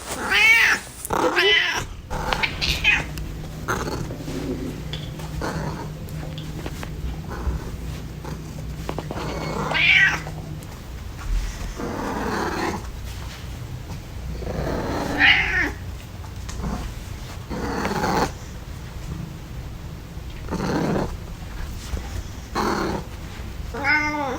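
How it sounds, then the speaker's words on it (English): A domestic cat meows and caterwauls in a close recording, with repeated drawn-out, wavering cries separated by quiet pauses over nearly half a minute. "Those were the Raws of Cherry the Cat"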